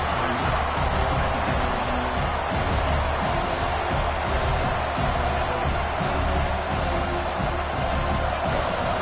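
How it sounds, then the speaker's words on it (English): A packed stadium crowd in the video game College Football 26 roars in a dense, continuous wall of noise at a Notre Dame home game against Alabama, loud and sustained throughout. "Listen to this crowd just shaking the girders of this place, trying to help their defense."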